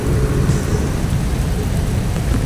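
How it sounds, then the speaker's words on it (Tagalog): Heavy rain pours down steadily during a flood, a dense, loud, unbroken roar of water hitting surfaces with low rumbling underneath and no voices. "tuloy-tuloy pa rin yung ulan"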